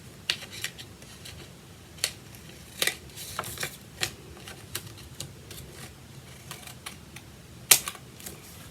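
Scissors snip off overhanging paper edges while a paper box is made, giving a string of sharp, quiet, irregularly spaced clicks and crisp cuts at close range.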